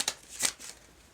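Tarot cards from a deck slide and flick in two quick crisp bursts, close and light, with a soft papery rustle trailing after and no talking.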